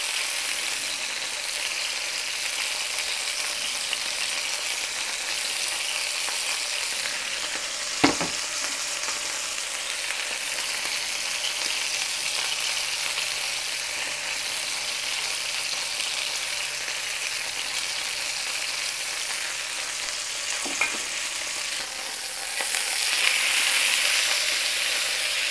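A pot roast sears in a hot skillet, a constant loud sizzling hiss with a couple of sharp clanks of a utensil against the pan and a brief surge near the end, no voices.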